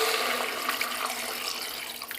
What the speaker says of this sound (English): So 2 cups of water going in